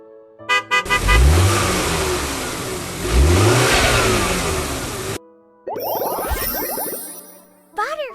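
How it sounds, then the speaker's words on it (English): A car engine revs hard twice in loud, rising surges, then cuts off and is followed by a short burst of honking-like horn tones near the end. "Cars."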